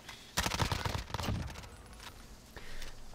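Bursts of gunfire in Call of Duty: Warzone on the Caldera map, a dense rattling volley up front, then scattered, fainter shots trailing off.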